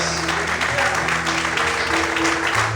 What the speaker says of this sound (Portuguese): Quantos podem aplaudir e exaltar a Ele em voz?